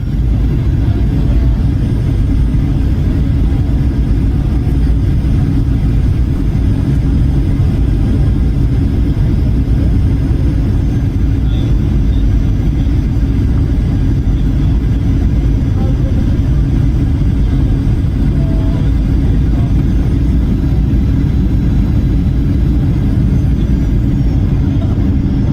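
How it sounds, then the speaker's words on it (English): A Ryanair Boeing 737 touches down roughly at Dublin, heard as a loud, steady low roar of engines and rushing air that holds for the whole stretch without clear breaks. "This Ryanair Boeing 737 made a beautiful golden hour approach into Dublin"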